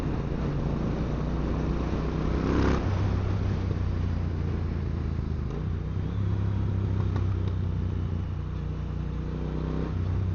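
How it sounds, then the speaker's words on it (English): A Triumph T120 motorcycle's engine and exhaust drone steadily while being ridden near Hout Bay, Cape Town, a continuous close rumble with slight shifts in pitch and no voices. "And you have the exhaust tone,"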